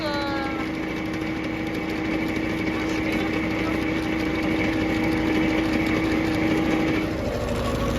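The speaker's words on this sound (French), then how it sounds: "Là, on est en train de passer le petit tracteur." A small farm tractor engine runs steadily close by, a continuous droning hum with a constant pitch and no pauses throughout.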